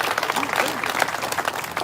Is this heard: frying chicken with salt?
no